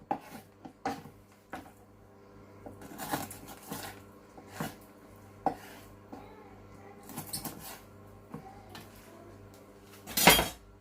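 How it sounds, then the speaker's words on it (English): Duck wings being cut into small pieces on a kitchen board, a series of irregular knife chops and clinks at close range, with a sharper louder strike near the end and quiet kitchen handling between. "I'm just going to cut it down into the small pieces so it's easier to roast"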